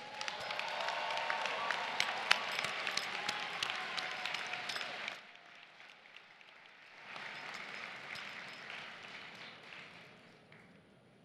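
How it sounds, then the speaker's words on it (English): Graduates and guests applaud at a Bergen Community College commencement ceremony in 2015, a dense wash of clapping from a large crowd that fades partway through, then swells again more softly in a big hall. "So college graduates, if you're going to clap for anything at all today, clap for them now."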